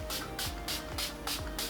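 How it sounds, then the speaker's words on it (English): PAC Fixation fixing spray mists over a made-up face: about five quick, hissing spritzes in an even rhythm, close to the microphone but fairly soft, with no talking. "So next I'm gonna set my base using the PAC Fixation Fixing Spray."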